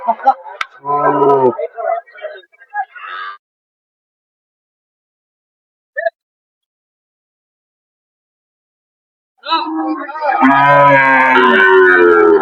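At a rural Bangladeshi cattle market, a lean cow gives loud, drawn-out moos close by, one at the start and another at the end, with a short silence and a brief sound between them.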